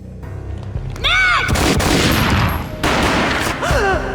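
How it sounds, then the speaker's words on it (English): Loud gunshots and gunfire in the Max Payne PC video game, with several sharp booming blasts and heavy fusillade over dramatic whooshing effects and a faint voice. "A gunshot boomed and she fell down in slow motion."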